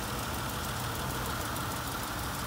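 A stock Honda 3.2 V6 runs in a 1991 Acura Legend Coupe, a steady, close, continuous engine drone with a dense, even rumble and no talk over it.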